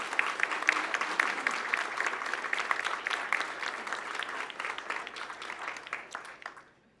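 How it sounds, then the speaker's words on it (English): An audience at the Upstate Talent Forum 2023 applauds for the event team, sustained even clapping from a large room that thins and fades out at the end, with no talking. "Please give them a round of applause."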